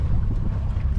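Outboard motor running on a sailboat while trolling on Lake Päijänne, a steady low rumble with wind noise on the microphone.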